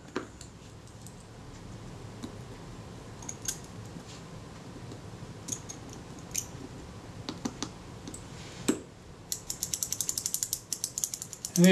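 The shutter mechanism of a Kodak Retina Reflex type 025 camera, out of its case during servicing, gives quiet ratcheting clicks and brief mechanical snaps, ending in a quick run of rapid clicks.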